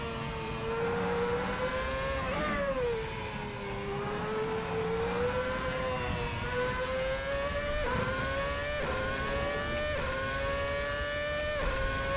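A Formula One car from a free F1 mod in Assetto Corsa screams at high revs, its engine pitch rising with each upshift and dipping through braking, steady and close with no talking.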